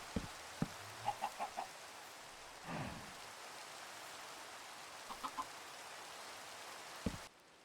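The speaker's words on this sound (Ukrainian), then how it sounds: "Зробила невеличкий загін для курчат." Minecraft chickens in a small pen give short clucks in a few quick bursts over a steady patter of in-game rain, with a brief flutter in the middle.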